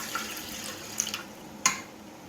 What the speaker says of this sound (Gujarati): કુકરમાં 2 ગ્લાસ પાણી નાખશું.